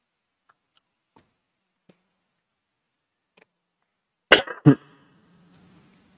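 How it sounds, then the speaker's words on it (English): Two sharp coughs in quick succession, close and fairly loud, after a stretch of near silence broken only by a few faint ticks. "I started coughing."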